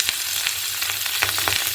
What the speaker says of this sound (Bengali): লাল লাল করে একটু ভাজছি, তেলের পরিমাণ একটু কম আসবে দিয়ে